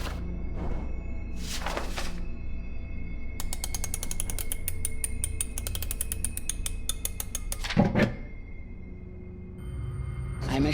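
A machine mechanism in the horror game Bonfire Stories: Heartless gives off a steady, rapid ratcheting clatter of gears and pawls for several seconds, set among low rumbling ambience and a few heavier mechanical thunks before and after.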